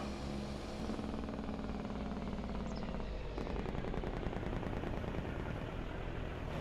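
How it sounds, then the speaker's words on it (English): Jake brake on a Lizard 379 truck in Farming Simulator, a loud, continuous low rattling engine-brake drone with rapid pulsing that grows rougher and stronger halfway through, with no voices. "The Jake brake's pretty low."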